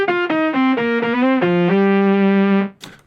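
A Boss SY-1 guitar synthesizer on a lead patch plays a short, loud melodic line of sustained, bright, buzzy notes, with pitch steps and a long held final tone that cuts off abruptly.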